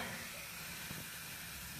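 A homemade bath bomb made with Epsom salt fizzes and crackles in water as a faint, steady hiss with fine crackling throughout, and no other sounds on top.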